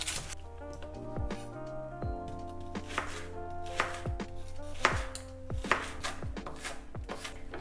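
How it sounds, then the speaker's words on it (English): An onion is chopped with a knife on a cutting board while making a vegan appetizer. Crisp, close chops repeat at an uneven rhythm over steady background music. "Now I'm gonna cut the onion."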